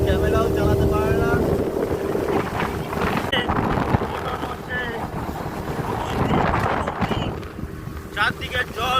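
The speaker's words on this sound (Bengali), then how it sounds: "আমরা এখন যাচ্ছি বোটিংয়ে" A boat moves across open water on a monsoon-season outing in Purulia, its engine hum mixed with heavy wind buffeting the microphone and water noise, loud and continuous, with people talking over it.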